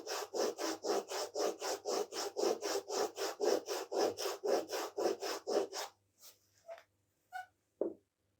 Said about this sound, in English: I check myself with the side of the rasp